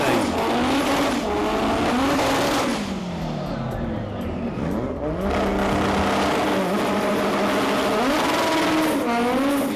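A front-wheel-drive race car engine roars and revs loudly and continuously, with high-pitched whine rising and falling, during a drag strip burnout.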